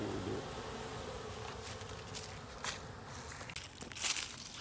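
Honey bees buzzing close around a beekeeper at a hive fitted with an entrance reducer, a steady dense hum with individual bees zipping past and bumping near, along with a few footsteps.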